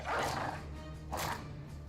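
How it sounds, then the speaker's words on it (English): A war dog in the video game Battle Brothers gives two barks about a second apart over a low humming game backdrop, moderately loud and close. "Dog, go for it."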